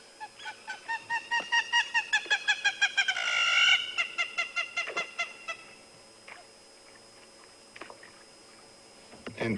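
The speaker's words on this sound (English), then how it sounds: "that bird you heard calling there was the hammerkop" A hammerkop gives a long run of rapid, nasal, rising calls in a steady rhythm, fairly close, on an African safari drive at sunrise, then falls quiet leaving faint background sounds.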